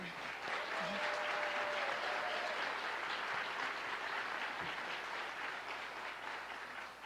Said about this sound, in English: Can I have one more round of applause for my amazing friends and their inspiring performance?